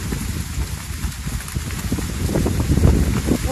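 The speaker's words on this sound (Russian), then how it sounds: "О, как ветер поднялся." Outdoor wind gusts and rumbles against the microphone, a rough low buffeting that grows stronger and louder toward the end.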